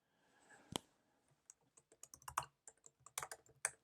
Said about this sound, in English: I'm just going to type in random email address